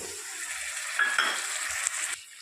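Fenugreek leaves frying in a pan with turmeric and ginger-garlic paste, a steady close sizzle with a few light clinks of a spoon against the pan, ending abruptly.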